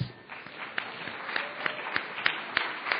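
An audience at a presentation event applauds four finalists, a steady patter of many hands clapping in a room, with rhythmic louder claps from nearby standing out.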